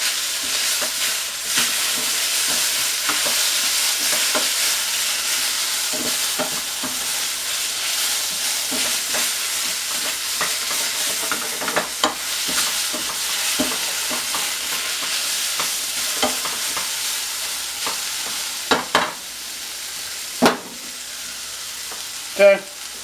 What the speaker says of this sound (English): So we're going to cook this till the garlic gets soft.